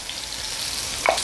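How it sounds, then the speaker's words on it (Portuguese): Meatballs fry in a pan with a steady soft sizzle, briefly punctuated near the end by a short stir or clink. "enquanto eu tô fritando as almôndegas"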